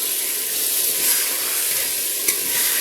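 Minced chicken keema sizzling and frying in a pan with alum-free steady crackle, stirred continuously, one brief louder scrape near the end; close and fairly loud with no talking.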